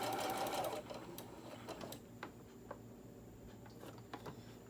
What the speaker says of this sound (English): Start sewing. Back stitch.